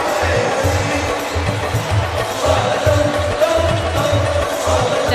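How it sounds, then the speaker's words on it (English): Stadium crowd at the Delhi 2010 Commonwealth Games opening ceremony: a broad, sustained roar of cheering under a pulsing rhythmic beat, with voices blended in the wash. "Definitely got the crowd going now."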